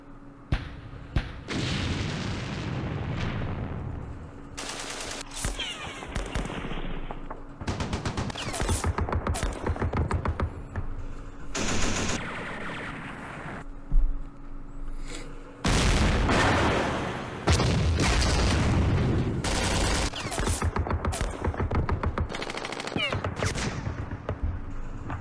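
Artillery explosions and gunfire in the wargame Campaign Series Middle East, with loud repeated booms and bursts of rapid shooting in a dense, sustained barrage, broken by short lulls, and some talk faintly underneath.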